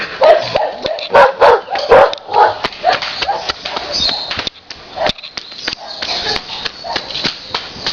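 A female dog barks repeatedly in short, sharp bursts, fairly close and loud, with some brief whimpering yips in between and a little talk in the background.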